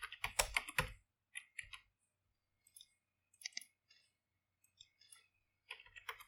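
Computer keyboard typing as a phone number is entered: quiet, close key clicks in short bursts with pauses between, a rapid flurry at the start and another at the end.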